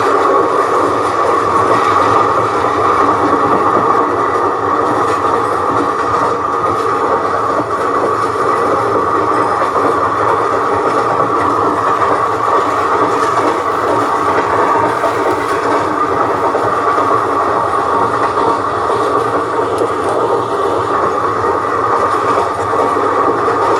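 A passenger train runs steadily on its rails with a loud, continuous rumbling roar and faint rhythmic clatter throughout, heard close as if from on board, with no voices.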